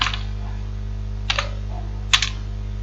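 A few scattered keystrokes on a computer keyboard as a command is entered in a terminal, with one brief burst near the start and a sharper pair of clicks later, over a steady low electrical hum.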